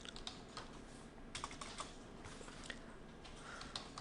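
Steady typing on a computer keyboard with the type tool in an illustration program: quiet, continuous patter of key clicks with a few slightly louder taps, close and alone without speech.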